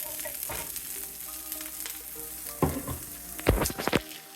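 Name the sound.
frozen broccoli and onion sautéing in a pan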